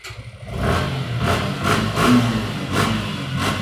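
A 1000cc motorcycle engine runs steadily nearby, with rhythmic pulsing and slight revs over a mechanical rumble.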